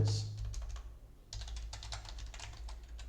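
Fingers type code on a computer keyboard, a run of close, light key clicks with a brief pause before the tapping resumes more densely.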